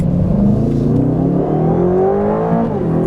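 A 2026 Aston Martin Vantage S engine accelerating hard on the road, a loud, close, rising roar with climbing engine pitch throughout.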